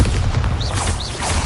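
Booming spell blasts from Confringo and Bombarda in Hogwarts Legacy rumble loud and continuous through a short burst of combat, with sharp whooshing accents laid on top.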